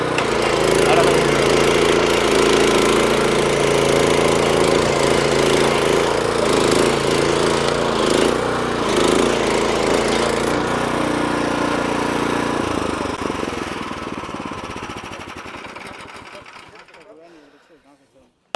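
A 9 HP Honda engine machine runs at a steady, loud drone with a dense rattling mechanical texture, continuing for about twelve seconds before the sound fades and dies away.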